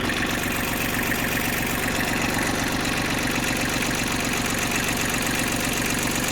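A tractor engine idling close by during farm work on a pig shelter, a loud continuous low diesel rumble with an even knocking throb and no break throughout.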